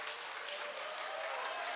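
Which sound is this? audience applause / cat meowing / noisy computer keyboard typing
audience applause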